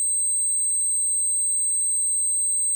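A steady test tone plays at an optimized sample rate in Unity, a constant pure pitch with faint upper overtones and a light low-level background, held evenly and moderately loud for the whole span with no talking.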